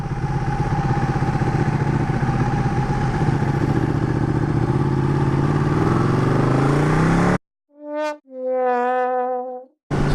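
A Ducati 1299 motorcycle rides along with a loud, steady engine drone and wind rush for several seconds before the sound cuts off abruptly.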